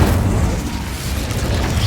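Incendio fire spell going off in the Hogwarts Legacy video game, a loud, close, roaring burst of flame with a deep rumbling boom sustained for the whole short moment.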